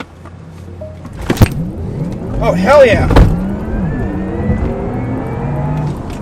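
A Porsche Taycan Turbo electric car accelerates hard in launch control mode with a rising motor whine and road noise, while a person shouts excitedly over it.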